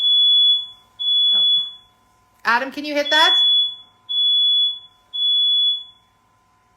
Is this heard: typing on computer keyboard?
no